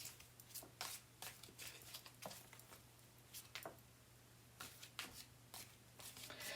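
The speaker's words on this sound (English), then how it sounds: "This has 200 cards in it, so I can't shuffle them all at the same time." A deck of 200 cards shuffled in two separate piles, a quick series of soft riffling flutters and taps at close range over a low steady hum, with no talking.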